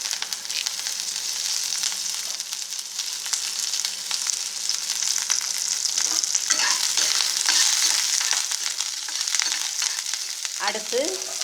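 Onions and curry leaves fry and sizzle steadily in a pan for a Tamil dried-fish and brinjal thokku, with a bright hiss throughout and brief stirring scrapes near the end.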